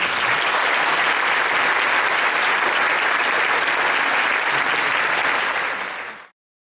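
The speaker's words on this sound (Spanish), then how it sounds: "Un aplauso para él." A crowd at an anniversary celebration for a nutrition department applauds loudly and continuously, a thick wash of clapping that holds evenly and then cuts off abruptly.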